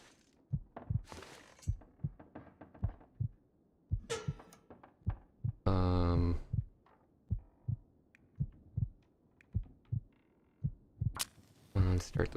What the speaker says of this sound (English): I don't know if you can hear it, but yeah, that's my heart beating.